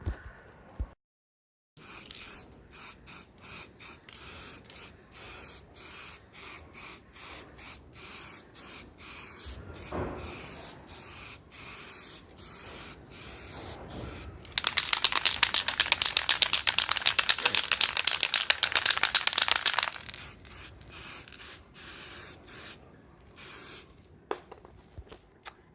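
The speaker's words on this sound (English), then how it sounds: "then I'm going to use some white primer first" White primer is sprayed onto a Peugeot 309 sill during rust repair. Short spray bursts with a rattling rhythm come close by, then give way to a long, louder continuous spray that stops abruptly, with no talking.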